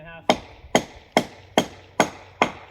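Six sharp, evenly spaced hammer blows drive 5-inch nails into very hard tree wood to fix thick log steps, each crack ringing out close and loud with a short decay.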